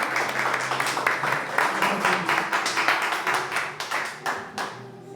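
A church congregation claps in praise during an evening service, a close, rhythmic group clapping that is fairly full, then thins into a few scattered claps near the end.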